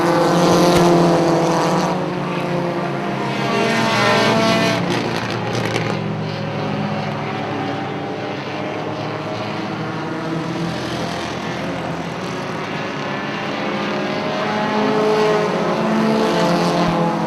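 Pro4 race cars roar around Punta Gorda Speedway, a loud, sustained engine drone rising and falling as cars pass, with several overlapping motors blending into a continuous rumble throughout.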